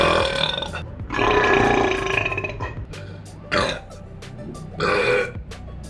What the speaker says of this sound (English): We're just gonna burp.